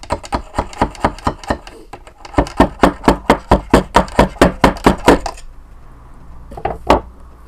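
A big screwdriver tapping a baffle down inside an Air Arms air rifle silencer tube: a rapid run of sharp metallic knocks in two bursts, a short pause, then a couple of final taps, close and loud.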